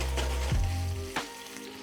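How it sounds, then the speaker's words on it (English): Bacon sizzles steadily in a frying pan, a close, continuous frying hiss with a couple of brief scraping stirs as the strips are moved. "let the bacon sit for a few minutes before moving it around the pan"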